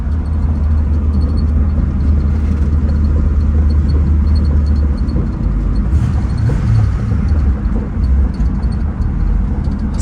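A 1965 Ford Thunderbird runs while driving over grass, its engine a loud, steady low rumble that holds throughout with a slight change in tone partway through.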